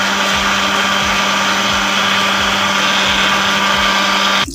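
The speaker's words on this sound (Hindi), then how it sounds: "उससे कवर करेंगे और इसको अच्छे से हम ब्लेंड कर" A blender whirs steadily at high speed, blending a mint margarita made with Sprite, the motor's loud even drone running without a break before cutting off at the very end.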